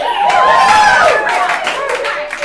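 An audience cheers and applauds with whoops and yells rising over clapping. The crowd noise fades gradually over a couple of seconds.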